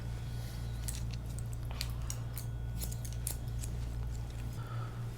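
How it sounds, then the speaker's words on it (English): Scissors snip through a hair replacement unit in small sections, a string of sharp, close cuts spaced irregularly over a steady low hum. "Now what I'm doing is I'm cutting layer by layer towards the back."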